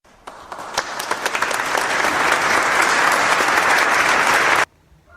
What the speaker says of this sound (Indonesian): Beri tepuk tangan buat Balia.